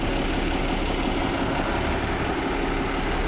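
Boat engines running steadily with the motors switched on, a loud continuous low rumble and broadband drone without breaks, heard close with no speech.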